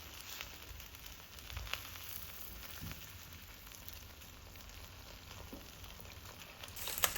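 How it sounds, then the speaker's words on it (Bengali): Fish wrapped in leaves fries in a pan with a steady, faint, even sizzle and crackle that runs the whole time with no talking. "পাতায় মাছ ভাজা হতে একটু দেরি লাগে।"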